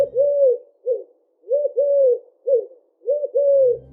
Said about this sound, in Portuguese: Geralmente o que as corujas comuns fazem é chirriar